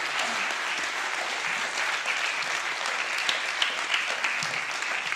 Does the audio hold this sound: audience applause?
yes